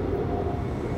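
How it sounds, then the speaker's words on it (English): An airplane flies overhead outdoors, a steady low roaring rumble heard for a brief moment, fairly loud and unbroken, with no voices. "Planes. There's always planes."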